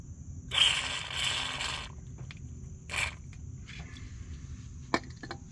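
Tapping new threads into a stripped aluminum hole for a HeliCoil repair, worked slowly with Cool Cut cutting fluid: a long grinding, scraping burst, then a shorter one, with light ratcheting clicks between, close by and alone.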